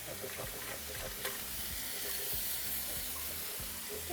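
A spoon stirs a cream sauce with poblano pepper strips in a pan, steady, close scraping and swishing, a soft sizzle underneath, no talking.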